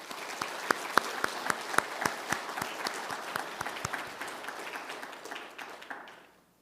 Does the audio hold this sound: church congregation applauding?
yes